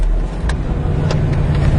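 A 2002 Ford engine idles roughly, a loud, close, low rumble with uneven pulses and a few faint clicks over the steady drone.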